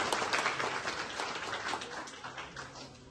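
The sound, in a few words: audience applause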